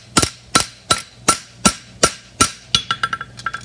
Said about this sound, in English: come back with the heel of your hammer and clean up right behind the base